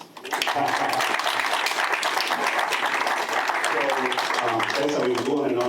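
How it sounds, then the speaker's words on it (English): An audience at an investor fair in New York breaks into steady, full applause that swells quickly and holds at an even loudness, with a voice faintly heard beneath it. "A round of applause."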